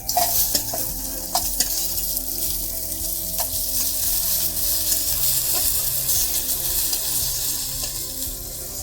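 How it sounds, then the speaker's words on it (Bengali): Dried lote fish (shutki) being stir-fried in a pan, giving a steady, close sizzle with repeated scraping and clinking of the stirring spoon throughout and no talking. "লাল লাল করে ভাজতে হবে।"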